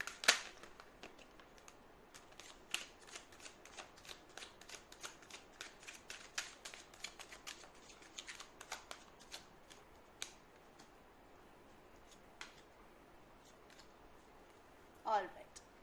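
Tarot cards are shuffled up close in a quiet room, a long run of soft, quick riffling clicks that ends with a sharper rustle and knock.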